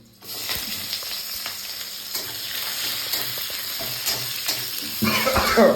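Onion tempering sizzles in hot oil for dal, a continuous close frying hiss that swells into a louder, crackling burst near the end, with no voices.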